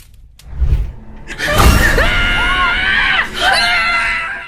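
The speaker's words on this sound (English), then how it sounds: "A woman suddenly started screaming and her daughter rushed to her." A woman screaming loudly and shrilly in sustained bursts after a sudden crash-like thud, with rising and falling wails close by.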